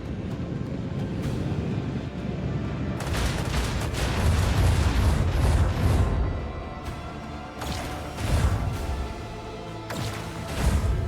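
Starship cannons fire in Warhammer 40k: Rogue Trader's space combat, heavy booming volleys and crashing impacts rolling in waves over a constant rumble, with several sharp bursts standing out loudly.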